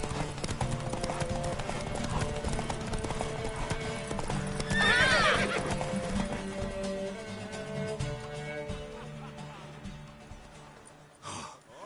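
In a PlayStation 4 video game, a mare's hooves clip-clop in a steady rhythm, a loud whinny rings out midway, and panting breaths follow before the sound cuts out abruptly.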